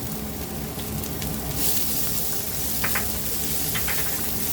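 Onion frying with salt in a pan gives a loud, steady sizzle that fills the whole span, with a few faint clinks and scrapes of stirring on top.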